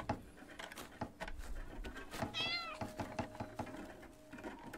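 A small cat meows once at close range amid soft knocks, wooden taps and shuffling noises indoors.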